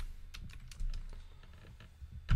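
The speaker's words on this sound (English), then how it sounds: "you're going to want to type in multi-step form" Typing on a computer keyboard, a quick run of close, light key clicks in an irregular rhythm ending in a louder keystroke, no voices.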